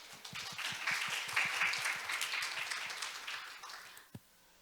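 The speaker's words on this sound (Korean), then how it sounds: "여러분 큰 박수 부탁드립니다." Audience at a youth forum session in Jeju clapping as presenters take the stage, a moderate applause that swells and then fades out, ending with one last clap before silence.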